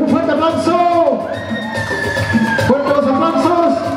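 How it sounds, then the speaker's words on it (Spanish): A lively crowd at a quinceañera party cheers and whoops over background music, with shouting voices and a sustained noisy roar throughout. "Fuerte los aplausos."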